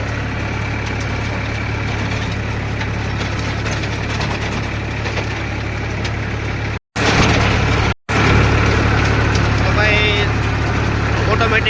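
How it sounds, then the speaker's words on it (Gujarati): A farm tractor's engine runs steadily with a rotavator attached, a constant low drone close at hand, broken by two brief dropouts, while someone talks over it. "મારા ટ્રેક્ટર હાલે છે"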